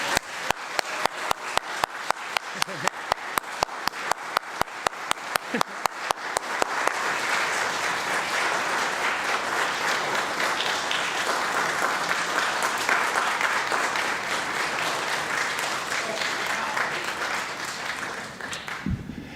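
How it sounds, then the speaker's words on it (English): Applause for young pianists at a piano festival fundraiser: a few slow, rhythmic claps at first, then a full, steady round from the audience that holds and gradually eases off. "one more round of applause for these young performers"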